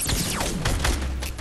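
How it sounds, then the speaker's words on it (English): A rocket launcher fires in the Fortnite battle royale game, a dense burst of explosive blasts and mechanical clatter over a sustained low rumble, loud and continuous for the whole moment, with no voices. "I'm gonna shoot a rocket down."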